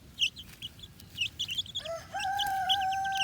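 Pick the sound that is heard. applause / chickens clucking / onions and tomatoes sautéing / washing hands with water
chickens clucking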